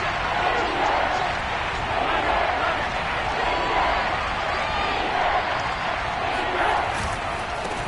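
Football stadium crowd roaring steadily before a big third down, a dense continuous wall of cheering and noise with no break.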